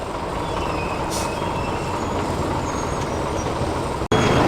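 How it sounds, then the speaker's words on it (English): A classic AEC Mammoth Major tanker lorry with twin front steering axles on a road run for classic lorries gives a loud, steady, rumbling diesel drone close by, ending in a sharp thump or hiss. "AEC Mammoth Major, twin steering axles on the front."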